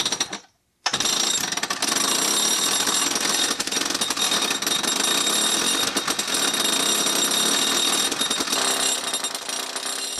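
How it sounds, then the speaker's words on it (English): A mudjacking auger running at close range: a loud, continuous harsh roar with rapid hammering texture, steady for about nine seconds after a short silent gap at the start, with no speech. "a mudjacking auger at close range"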